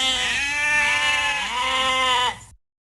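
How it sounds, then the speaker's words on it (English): A sheep bleats once, a wavering call lasting about two and a half seconds, close and clear with nothing else around it. "First, the Turners had to get some sheep."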